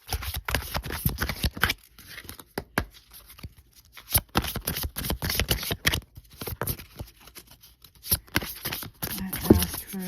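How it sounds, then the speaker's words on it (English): A deck of cards is shuffled by hand in quick bursts of riffling and flicking, with short pauses between rounds, close and crisp. "And now let's shuffle our houses deck."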